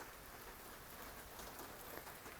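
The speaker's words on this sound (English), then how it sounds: "I hope it rains a little bit more" Steady rain falls on surfaces in a dense, even hiss of many drops, faint overall and unbroken across the whole stretch.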